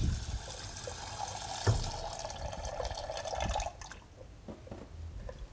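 Water is poured into a pot of carrots for a Japanese-style dish with soy sauce, a steady splashing fill running for about four seconds before it stops, followed by a few faint knocks and drips.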